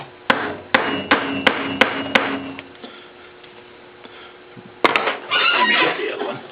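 Hammer blows strike a leather-working tool while a belt is being made, about seven sharp, close taps in an uneven rhythm, then a pause and a couple more strikes followed by a rustling scrape.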